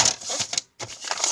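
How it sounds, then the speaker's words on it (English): Scissors or a blade cutting off the edge of a journal page, quick dry rasping snips in two bursts separated by a brief gap, close and fairly crisp. "So I'm just gonna cut off the edge here"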